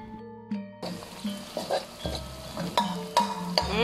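Onion, garlic and ginger sauté in hot oil for sambal goreng jawa, a sizzle that starts abruptly after a quiet moment, broken by repeated scraping and clattering of a spatula against the pan.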